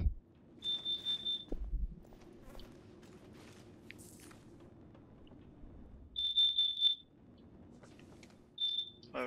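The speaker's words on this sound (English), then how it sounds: "What is that beeping?" High-pitched electronic beeping like a smoke alarm sounds in three clusters of rapid pulsed tones, separated by quieter stretches with faint creaks and footsteps.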